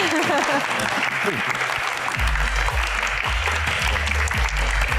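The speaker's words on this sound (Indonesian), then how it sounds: "Tepuk tangan yang paling meriah untuk bintang tamu kita pada malam hari ini" Lively applause greets guest Taufik Hidayat at an evening event, dense clapping from a crowd mixed with an enthusiastic host's voice over amplified sound.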